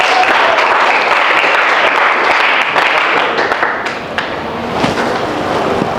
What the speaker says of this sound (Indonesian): mari kita tepuk tangan untuk kita semua hari ini